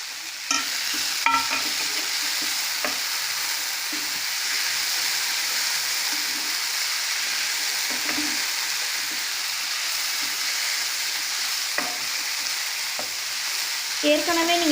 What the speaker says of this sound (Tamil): ஓரளவுக்கு மசாலா எல்லாம் சேர்ற வரைக்குமே நீங்கள் கிளறினா போதும்